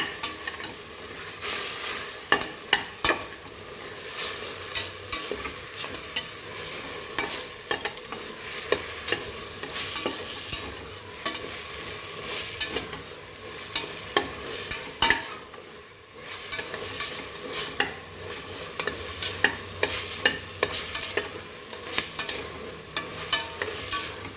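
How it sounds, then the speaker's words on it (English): Achari chicken masala fries in a pan with a steady crackling sizzle, while a spoon scrapes and stirs it in frequent rhythmic strokes, close and continuous throughout. "So let this masala fry nicely."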